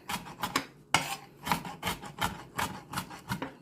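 A knife coarse-chops chile on a cutting board for guacamole, a quick irregular series of close, crisp taps and scrapes, about a dozen strokes with short pauses between.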